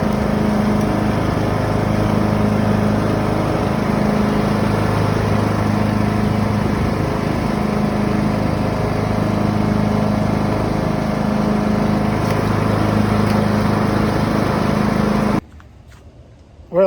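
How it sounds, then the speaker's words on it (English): A lawn mower engine drones steadily and loudly while cutting grass, holding an even hum before cutting off abruptly near the end. "Well, at least we got the grass mowed."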